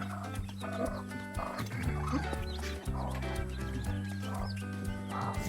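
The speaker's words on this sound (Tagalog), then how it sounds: "Simula na yata ito magparami ng manok." A crowd of chickens clucks and calls on a farm in the Philippines, a busy overlapping chorus close by with some louder squawks and no talk.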